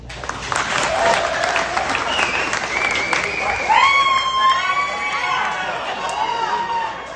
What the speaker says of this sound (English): you guys clap just like my parents